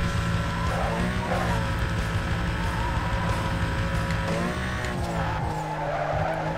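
Car engine in Need for Speed: Most Wanted (2005) accelerating hard, a sustained rising drone with tyre squeal mixed in, loud and close throughout.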